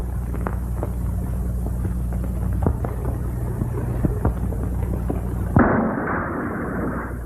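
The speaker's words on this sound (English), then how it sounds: "That explosion sounded like it came from a relay station." A series of sharp, distant booms and bursts over a low rumble from an explosion at a relay station, ending in one heavier blast followed by a muffled, crackling roar.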